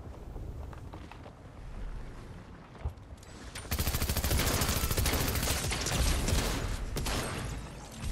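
Rapid, sustained gunfire from a Fortnite match, starting as scattered shots and building into a dense, loud barrage of continuous automatic fire that fills the second half without any talking.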